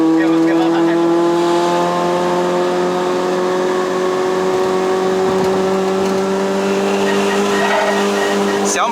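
A 1996 Proton Satria 1.3L with a carbureted 4G13 engine climbs a steep mountain road, its engine droning loud and steady with tires squealing, while someone talks over it.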